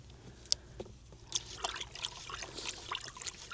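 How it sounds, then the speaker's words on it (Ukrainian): Powdered orchard spray preparation is stirred into cold tap water in a container, giving faint sloshing and trickling with a few small clinks, close and quiet, with no talking. "Тепер потрібно його добре розколотити."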